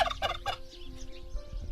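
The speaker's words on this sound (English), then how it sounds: "a couple of chatty turkeys, which she says she does not slaughter" Several turkeys on a small farm gobble in three quick, loud bursts near the start, and a quieter bird call follows over faint farmyard background.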